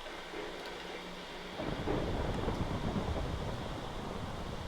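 Rain and thunder in Minecraft, a steady noisy hiss that swells suddenly into a louder rumbling wash partway through and holds, no talking.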